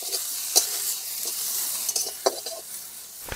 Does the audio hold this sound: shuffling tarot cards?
no